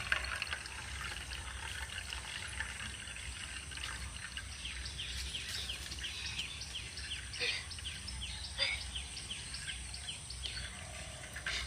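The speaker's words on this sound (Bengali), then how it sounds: "তো এবার আমি এই ওপরের জলটাও আস্তে আস্তে এইভাবে ফেলে দেব" Water poured slowly off a layer of settled homemade cornflour made from raw grated potato, a steady trickling and splashing stream that runs close and continuous, with brief louder splashes near the end.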